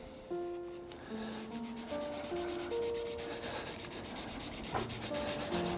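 Sanding an African Zebrano wood pen spinning on a lathe, a continuous close rubbing hiss over the lathe's steady tonal whine, with a few soft knocks.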